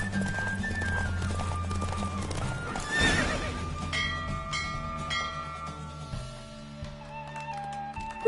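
A horse from The Witcher 3 galloping with steady clip-clop hoofbeats and a loud whinny partway through, set against a musical backdrop with bell-like tones.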